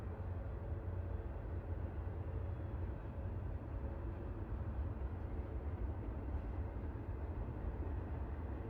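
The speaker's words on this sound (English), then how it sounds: "By music, I mean train noises." Train noise played as background audio, a steady, even low rumble of rolling rail cars that continues without a break for nearly nine seconds at moderate volume.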